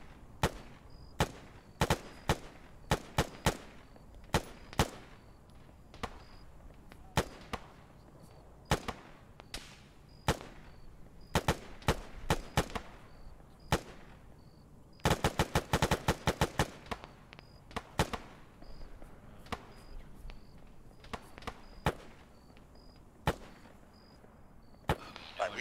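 Gunfire in the military shooter Arma, with sharp single shots scattered throughout and a dense rapid burst in the middle, some close and loud, others fainter.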